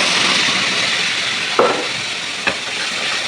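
Spice paste of chilli powder, turmeric, salt, ground onion and cumin frying in hot oil, giving a steady close sizzling hiss with two sharp utensil knocks partway through.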